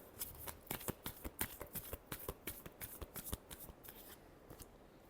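Tarot cards are shuffled by hand in a rapid run of crisp, close riffling snaps, roughly a dozen quick bursts that slow and thin out toward the end, with no talking.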